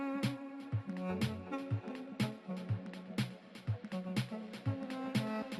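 Sharp, regular snare hits cut through a deep house track, punching over a thumping kick and bass line at a steady dance tempo, with no talk over the music.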